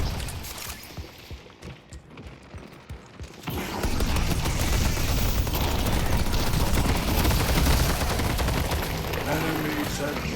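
An automated turret in a video game opens fire, a dense, continuous stream of rapid gunfire and mechanical clatter that starts after a few seconds of sparser thuds and keeps going loudly to the end.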